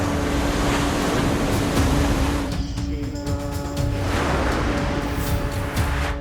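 Surging sea waves off the coast of Bharuch district, Gujarat, a loud, steady roar of surf with breaking swells and wind buffeting the microphone, with no voices.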